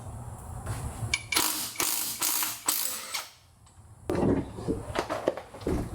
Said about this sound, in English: I got this new impact from Amazon. Looks like a DeWalt.